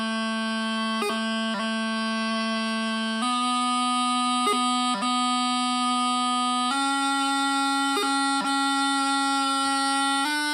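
Bagpipe playing a slow grace note strike scale, steady drone under a stepped melody line with sharp, regular grace-note cuts between each held note, loud and continuous.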